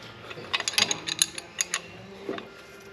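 A ratchet wrench clicking in quick close bursts of sharp ticks while a transmission is installed in a GMC Sierra, the clicks followed by a brief pause and a few more, with no talking.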